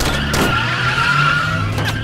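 A limousine skids and speeds away in a film scene, tires squealing in a loud sustained screech over engine rumble.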